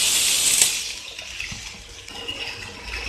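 Sliced onions hit hot oil with curry leaves for an onion sambal, setting off a bright, steady sizzling hiss that stays close and continuous throughout.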